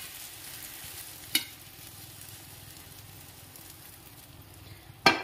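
Okra fries in a pan while being stirred, giving a steady, soft sizzle with two sharp scraping clicks from the utensil against the pan.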